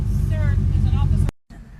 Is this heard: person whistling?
no